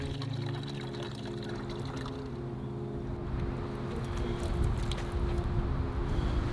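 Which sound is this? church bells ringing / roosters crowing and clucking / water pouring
water pouring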